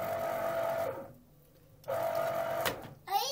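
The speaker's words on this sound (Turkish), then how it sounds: "Mandalina sıkıyorum." A small electric citrus juicer hums as it squeezes tangerines for juice, a steady whir that stops for about a second, starts again and ends with a short clatter.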